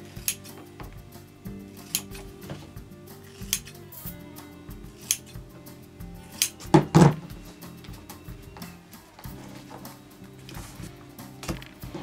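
Scissors snipping through duct tape while petals are cut freehand, heard as scattered sharp close clicks and cuts, with a louder cluster of handling noise midway.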